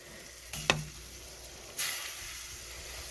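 Onions sizzle steadily in a frying pan for seaweed soup, with a couple of sharp scrapes and clacks from stirring, close and fairly loud, with no talking.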